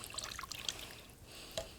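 Water is stirred by hand into a steak marinade in a kitchen, giving faint, scattered trickling and light splashing sounds.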